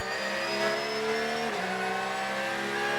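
Corvette race cars speed around an Australian circuit at high speed. A loud, continuous engine roar holds a high pitch, dips briefly midway, then climbs again, with no talking.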